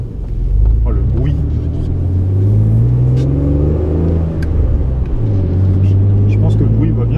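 Deep Renault Clio V6 phase 1 engine rumbling and revving, its pitch rising and settling in waves as it accelerates, heard from close inside the car.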